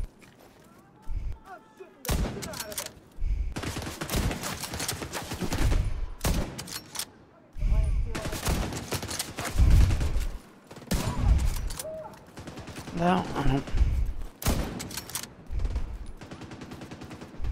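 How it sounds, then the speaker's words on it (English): Gunfire in Tom Clancy's The Division 2 comes in repeated bursts and single loud shots separated by quiet gaps, some close and sharp, with a voice talking between the volleys. "Where did that shooting come from?"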